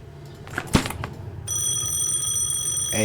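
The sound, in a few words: telephone ringing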